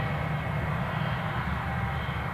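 An airliner taxis at Newcastle airport, a steady broadband engine roar with low rumble, moderately distant and unchanging over a couple of seconds.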